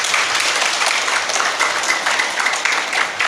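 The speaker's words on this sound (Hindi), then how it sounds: "तालियों से स्वागत करें।" Audience applause breaks out during a Hindu religious discourse on the Devi Bhagavata, steady dense clapping from many hands filling the space without a break.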